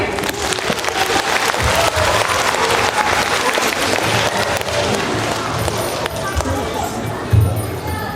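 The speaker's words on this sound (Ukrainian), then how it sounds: "Ваші оплески!" Audience applause at a Saint Nicholas Day celebration after a folk ensemble, a full sustained clatter of many hands with scattered sharper claps and some voices mixed in.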